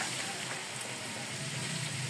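Chopped onions frying in a hot pan, a steady, faint sizzle and crackle that continues evenly throughout.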